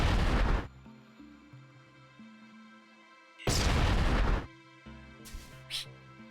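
Game grenade blasts in the sci-fi roguelike Approaching Infinity sound as three loud booming bursts, the middle one longest, set against a droning synthesized music bed, with no talking.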